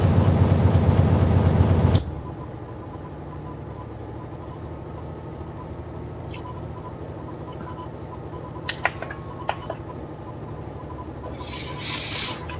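A truck engine in Euro Truck Simulator drives along at around 60 km/h with revs held up, a steady low drone after a louder opening burst, with a few faint clicks near the end.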